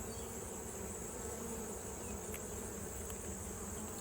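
Honey bees buzzing densely around an open hive frame, a continuous close, even swarm hum with no voices.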